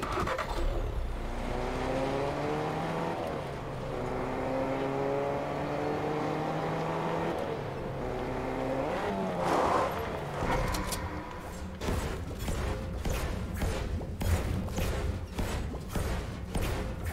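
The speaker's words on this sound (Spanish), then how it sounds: "Vamos a pillar un coche, si no." A car drives in the Fortnite battle royale video game, its engine humming and rising in pitch through several gear shifts, followed by rapid rattling bursts over a steady background rumble.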